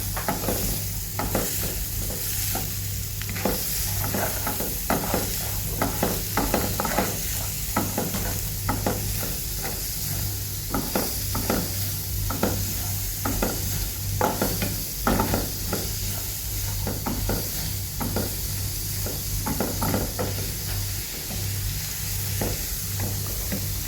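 Beans and carrot fry in a pan with salt under a constant sizzle, while a spatula stirs and scrapes in repeated rhythmic strokes, close and alone without speech.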